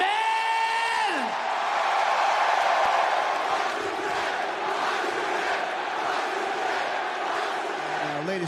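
A wrestling arena crowd roars and cheers continuously throughout, a dense, loud wall of voices with a brief tonal horn or chant at the start.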